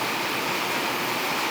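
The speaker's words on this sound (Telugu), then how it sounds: "ఇప్పుడు ఫుల్ వర్షం దంచేసింది" Heavy rain pours onto an iron roof, a dense, unbroken roar of noise that holds steady throughout.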